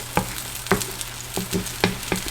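Plant-based egg sizzling and frying in a pan, with soft sputtering and several sharp scrapes and taps of a utensil folding it, close and fairly loud with no talk.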